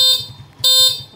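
A motorcycle horn set off by a DIY keyless remote gives two short, loud, bright electronic blasts separated by a brief gap, heard alone with no talking.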